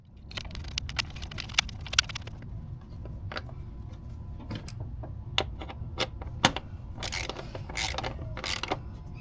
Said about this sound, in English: Extremely recommended that you use a torque wrench, and the torque for the spark plugs is 13 foot-pound.